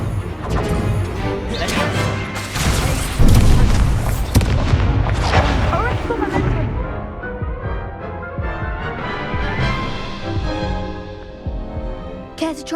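Incendio fire spells are cast during a Hogwarts Legacy duel, with heavy booms, crashes and whooshing blasts piling up loudly for several seconds before thinning into a quieter, rumbling tail.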